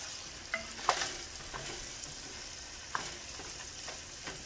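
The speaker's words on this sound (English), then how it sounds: "Everything's stirring. Keep it stirring, don't let it burn." Cornmeal being stirred in a pot, giving a steady soft scraping and sizzling texture with a few light knocks of the spoon against the side, continuous and close, with no talking.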